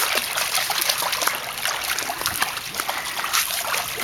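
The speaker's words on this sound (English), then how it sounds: "that splash with the feet seems to work" Swimming dog kicking and paddling with its feet, producing continuous close splashing and trickling water noise throughout, with no talk over it.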